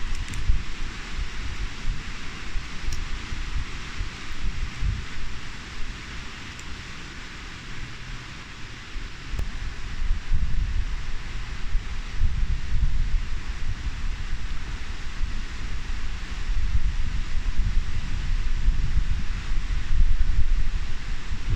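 Strong outdoor wind roars steadily across the microphone, a loud continuous rumbling buffet with no pauses.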